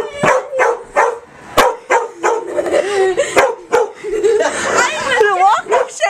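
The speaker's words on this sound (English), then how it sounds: "And the dog's still barking at me." A dog barks in sharp repeated bursts close by, interleaved with laughing and chatter from several people outdoors.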